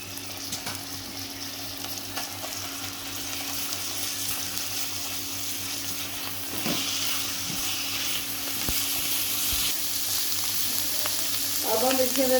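Onions and ginger-garlic paste fry in a pan for a chicken curry, a steady sizzle holding throughout and growing a little louder toward the end, with brief stirring clatter and a faint splash of water near the close.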